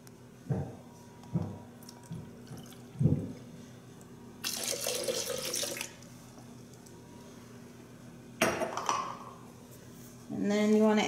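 Spring water is poured into a cup while making a green juice, giving a couple of seconds of splashing trickle amid soft kitchen knocks and clinks, then a second shorter pour.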